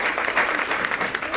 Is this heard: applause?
yes